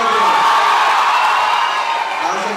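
A college crowd roars with cheers, whoops and scattered clapping to welcome an actress onto the stage, forming a loud, continuous wall of noise that never lets up.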